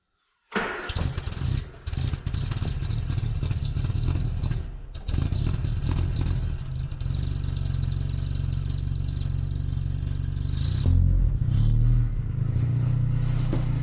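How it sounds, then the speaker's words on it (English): A 1970 Austin Morris 1300 engine cranks and catches with clattery starts, then settles into a steady, loud mid-pitched running idle close by, with a surge of revs toward the end. "It's an Austin Morris 1300 from 1970."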